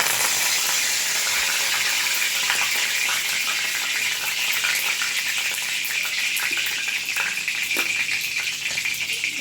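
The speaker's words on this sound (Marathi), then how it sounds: "तेल तापलं आहे आता. मी त्यात कढीपत्ता घालते," Curry leaves sizzle in hot oil as tempering for a raw pigeon pea pod curry, a steady loud crackling hiss that fills the whole stretch without pause and with no talking.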